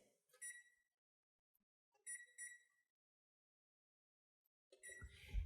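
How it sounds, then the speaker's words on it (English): A kitchen timer being set, giving a few short high beeps in two separate bursts during setting, with near silence between and a louder clatter at the end. "I'm going to take my timer and set it for 15 minutes."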